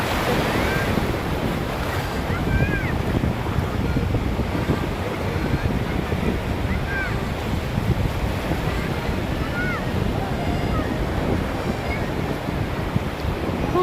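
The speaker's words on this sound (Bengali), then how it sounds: "যে বড় বড় ঢেউ" Big sea waves breaking on the beach at Bakkhali, a continuous loud roar of surf with wind buffeting the microphone, no talk heard.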